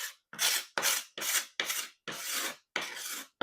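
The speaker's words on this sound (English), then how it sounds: "what I would do is take the card scraper" A card scraper rasps across a wood floor in eight short, firm strokes with brief pauses between them, close and alone.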